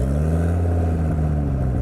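A Mark II Ford Focus ST engine with a 3-inch custom exhaust idles or runs steadily nearby, making a loud continuous low rumble with a deep throb and no talking.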